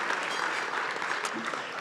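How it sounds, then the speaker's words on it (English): Steady audience applause at an evening leadership celebration, a dense, even wash of clapping throughout with faint voices mixed underneath. "Give them a round of applause, please."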